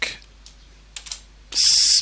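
A few scattered keystrokes on a computer keyboard, followed by a brief louder burst of clicking near the end; close and fairly crisp with quiet gaps between.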